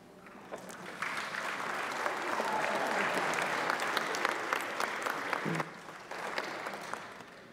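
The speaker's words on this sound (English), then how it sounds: "60 years earns you applause" A congregation at a Friday night Shabbat service claps for a couple celebrating 60 years together, steady sustained applause from many hands in an indoor hall, swelling and then easing.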